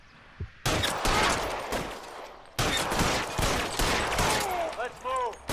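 Loud, close gunfire in LA Noire, two long sustained volleys of rapid shots separated by a short gap, with voices and other game sounds mixed in toward the end.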